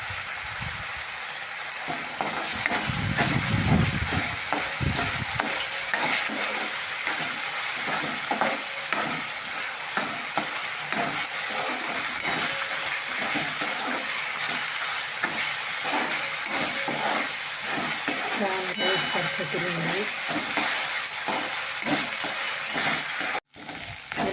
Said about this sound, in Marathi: आता आपण हे लसूण चिरून घेतलेला तो पण टाकणार आहे